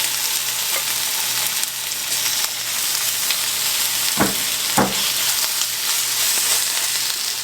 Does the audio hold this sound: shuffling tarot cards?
no